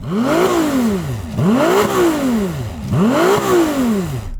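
Ferrari 296 engine blipped three times in a row, each rev swelling up and dropping back in an even rhythm, loud and close with no voices.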